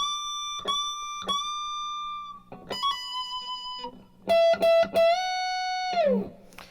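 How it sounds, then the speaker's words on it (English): Clean electric guitar notes from a second solo ring out with long, washy delay echoes and reverb tails, including a bent note that slides down at the end. "There's a lot of washy reverb and delay and all that going on"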